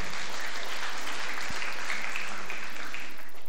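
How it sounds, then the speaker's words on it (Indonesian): Congregation applauding at a Sunday worship service, a continuous even wash of many hands clapping, heard from a distance with a single low thump partway through. "tepuk tangan bagi Tuhan kita"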